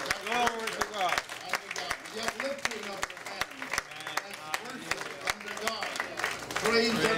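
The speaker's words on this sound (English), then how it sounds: "worshiping With the clapping of your hands" Worshippers clap their hands in steady rhythm, sharp repeated claps running throughout while voices talk and sing over them.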